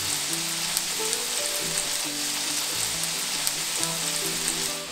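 Meat sizzles and crackles steadily in a hot frying pan for an open-faced fried-egg-on-bread dish, a dense close hiss with small pops throughout and no voices.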